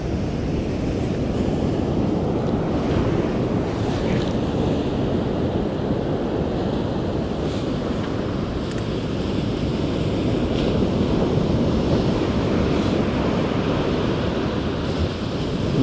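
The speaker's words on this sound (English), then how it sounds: "A beautiful day on the beach" Waves break and wash onto a beach on a windy day, a constant loud surf roar with gusting wind buffeting the microphone throughout.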